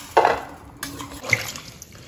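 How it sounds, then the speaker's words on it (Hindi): Blanched almonds are rinsed in plain water while their skins come off for Badam Katli, giving a brief near splash, a quiet pause, then a second softer slosh. "अब इसमें नॉर्मल पानी डालकर इसके छिलके निकाल कर 2 से 3 बार हम बादाम को धो देंगे"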